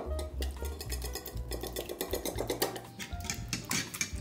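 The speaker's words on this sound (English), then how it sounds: "Mix eggs and lettuce thoroughly." Eggs and minced lettuce are mixed together in a bowl, giving steady scraping and clinking of a utensil against the bowl. The stirring runs continuously throughout at a moderate level, with no talking.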